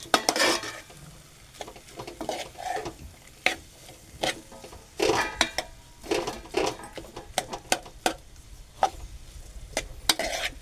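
Schezwan rice being stir-fried in a pan, with repeated sharp scrapes and clanks of a spatula against the metal over a steady close sizzle, coming in irregular bursts with no talking.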